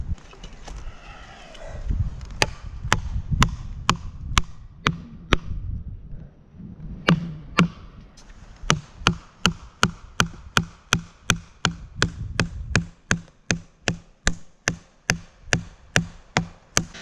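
Hammer blows drive wedges into the cut of a huge dead oak, sharp metallic strikes that come in steady, evenly spaced repetition, up close and loud, with some low rumbling and handling noise early on.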